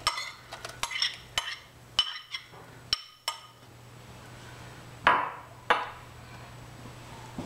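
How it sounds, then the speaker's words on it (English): Grated apple and grated potato going into a nearly boiling curry sauce, with a spoon scraping and clinking against the pot in irregular strokes, close and fairly quiet, with no talking. "now we can go ahead and add the grated apples"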